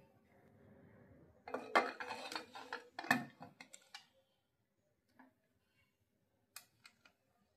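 A pot lid goes on a pan of lentil and rice khichuri with a cluster of metallic clinks and rattles, followed by a few faint scattered taps and then near silence.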